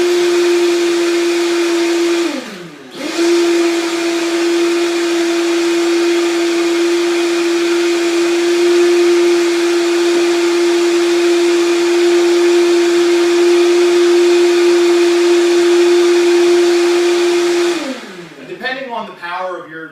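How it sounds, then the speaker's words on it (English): A blender making a green smoothie whirs loudly at a steady high pitch, briefly dips once near the start, then runs on before winding down at the end. "Add a scoop of that, and then we blend."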